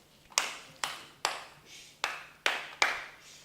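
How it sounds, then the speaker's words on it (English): A child claps in a kindergarten classroom, six sharp, evenly spaced claps ringing out alone at close range. "so go ahead and clap next"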